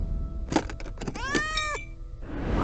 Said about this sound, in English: Why was there a kitty in the suitcase?